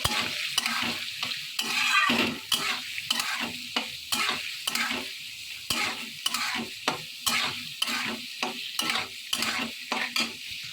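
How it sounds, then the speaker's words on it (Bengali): Pieces of food for fried rice sizzle in hot oil while a spatula stirs them in steady scraping strokes, close and fairly loud, with a constant frying hiss underneath and no talking. "টুকরোগুলো আমি তেলের মধ্যে দিয়ে দেবো। আবারও আমি নেড়ে দেবো।"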